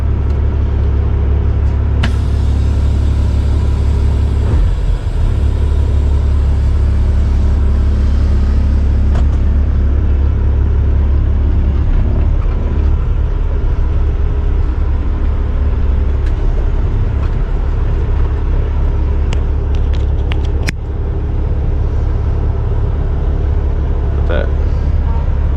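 Semi truck cruising on the road, a loud, steady low engine and road rumble that runs throughout, with occasional faint rattles over it.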